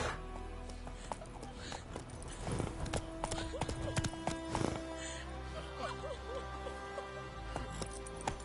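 A horse's hooves clip-clop at a gallop in The Witcher 3: Wild Hunt on PS5, a steady hoofbeat rhythm running throughout with game ambience and scattered sounds layered over it.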